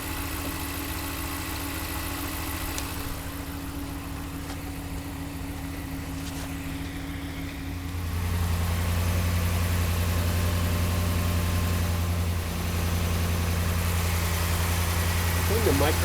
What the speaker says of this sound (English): If you want to hear the engine running, maybe what I could do is put the microphone that I have here closer.